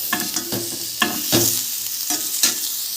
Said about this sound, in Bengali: এঁচোড়গুলো কিন্তু খুব বেশি ভাজবো না, হালকা করেই ভেজে নেব।